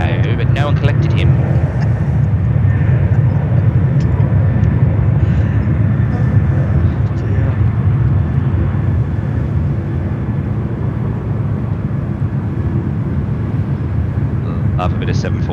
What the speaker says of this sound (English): Love a bit of 747 action.